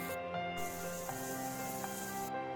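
Potatoes dropped into hot oil for a fenugreek potato curry set off a steady, bright hiss of sizzling, close and continuous with no talking.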